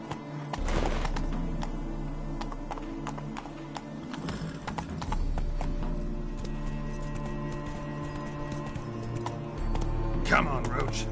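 Roach the horse clip-clops steadily across the ground in a Witcher game, its hooves close and rhythmic under game ambience, with a snort or whinny and a voice speaking over it.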